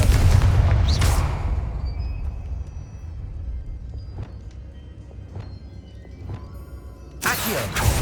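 Confringo blasting spell in the video game Hogwarts Legacy, a loud booming blast at the start followed by a few sharp crackling hits and another heavy burst near the end, no talking.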